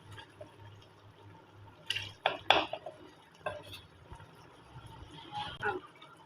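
Metal spoon scrapes and clinks against a handi pot as meat is stirred and fried in oil, several sharp knocks in a cluster then softer scraping, with faint speech underneath.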